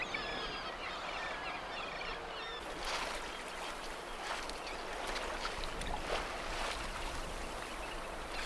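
A trip boat's engine runs near the Farne Islands as a low, steady, fairly quiet drone, with seabird calls sounding over it throughout.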